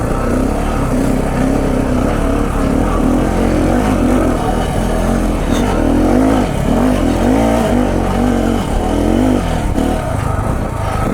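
A KTM 690 Enduro motorcycle's engine roars loud and close as it climbs a gnarly hill, holding a sustained, throaty high-revving drone with slight surges under load and no talking.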